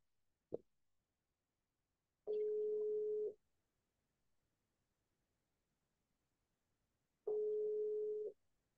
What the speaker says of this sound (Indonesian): Saya telepon nggak ngangkat ini Mas Angga.